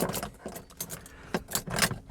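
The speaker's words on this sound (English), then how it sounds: "stick your keys in the door" Car keys for a BMW i3 jangle and clink in short bursts up close as they are pushed into the car door, several metallic rattles in quick succession.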